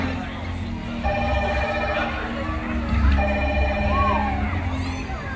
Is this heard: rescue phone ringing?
yes